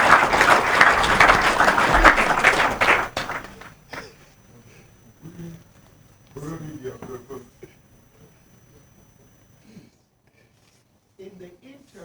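An audience at an association meeting about a leadership dispute gives the complainant a burst of clapping that stops abruptly, followed by voices talking in the room.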